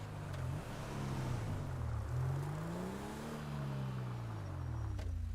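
A truck engine in a roleplay video game revs and hums, its pitch sliding up and down repeatedly at moderate level over a steady background.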